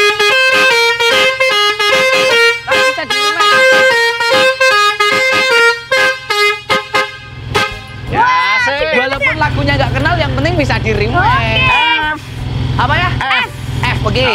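A Basuri three-trumpet vehicle horn module blares a loud, melodic tune of rapid stepped notes. Midway the tone turns wavering and warbling, and people talk over it.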